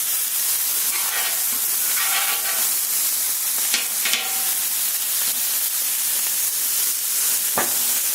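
Sirloin steak and vegetables sizzling on a Camp Chef flat top griddle, a loud continuous hiss with scattered scraping and stirring ticks, no voices.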